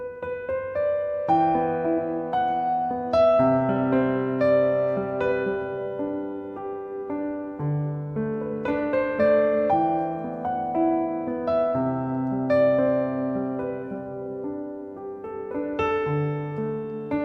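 Piano chords broken into single notes played one after another, a steady flowing arpeggiated pattern, clear and close with no talking.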